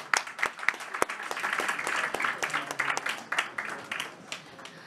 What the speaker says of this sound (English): I'd like to offer the final round of applause to the winners